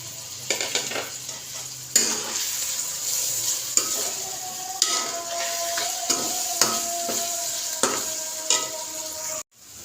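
Chopped green chillies, garlic and ginger sizzle steadily in hot oil for masala tori, with a spoon stirring and scraping the pan in repeated sharp clinks, close and clear.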